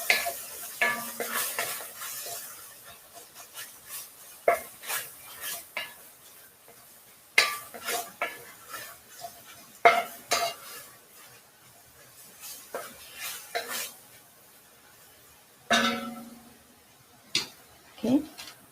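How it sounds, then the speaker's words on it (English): A couple of green chilies sauté in a pan during a Thanksgiving cooking session, heard as faint sizzling under sharp utensil clinks and scrapes against the pan in irregular bursts, with quiet talk in the background. "Just put a couple of those green chilies in there and saute."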